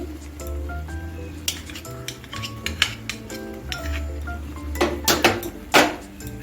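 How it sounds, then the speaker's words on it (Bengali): A paste of cashew, poppy seed and melon seed is stirred and sautéed in a pot, with repeated clinks and scrapes of a spoon against metal over a soft low hum. "এখন আবার সব কিছু ভালো করে একের থেকে দেড় মিনিট কষিয়ে নিচ্ছি"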